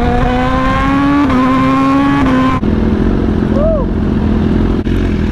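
Engines of motorcycles and cars fill New York City street traffic near a Brooklyn pier, a steady loud drone with rising and falling engine tones and a brief high whine partway through.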